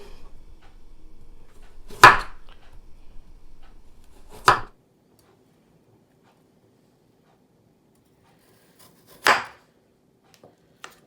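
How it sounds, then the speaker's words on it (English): A knife chops through thick-cut potatoes on a cutting board with three sharp, separate knocks spaced several seconds apart, loud and close in an otherwise quiet kitchen. "Now I like to cut my potatoes pretty thick"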